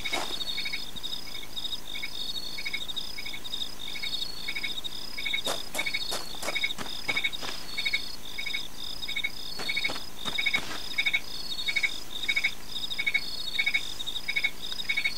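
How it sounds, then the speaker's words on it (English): Crickets chirp in a ruined night setting in the game Fragile Dreams: a steady, rhythmic pulse of high repeated chirps, fairly faint, with a brief burst of sharper clicks in the middle. "Oh, look, it's a cricket."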